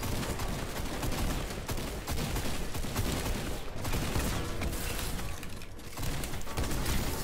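Rapid, dense video game gunfire crackles in continuous bursts, a chaotic wall of shots and impacts with only brief dips in intensity.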